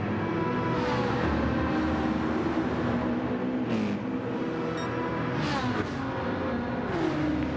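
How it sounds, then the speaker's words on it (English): Race cars drive and rev during a race, a steady loud engine drone with rising and falling pitch as cars barrel past, continuous throughout with no talk. "As the cars barrel down"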